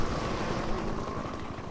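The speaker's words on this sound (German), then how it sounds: "Ich höre schon wieder einen Hubschrauber." Helicopter in the video game Black Mesa, a continuous whirring rotor drone with a steady low pulsing beat, moderately loud and heard alone.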